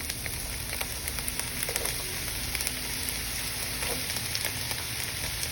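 Potatoes and carrots frying in a pan make a steady, close hiss and crackle that keeps going without a break, with small pops and a few faint scrapes of stirring.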